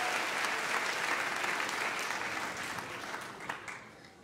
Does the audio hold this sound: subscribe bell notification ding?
no